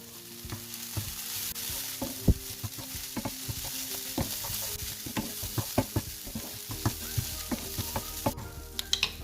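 Onion and mushroom samosa filling stirred in a pan with mixed masala, a steady sizzle under repeated scraping and clacking strokes of the spoon throughout, close and alone.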